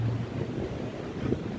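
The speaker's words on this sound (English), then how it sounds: "so the wind's picked up too, so you see the wind is now actually picked up" Strong wind picking up outdoors ahead of a storm, a steady broadband roar buffeting the microphone without letup.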